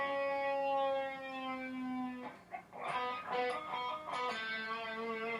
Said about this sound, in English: So we're doing like a bend up, but we're letting that bend slowly come down.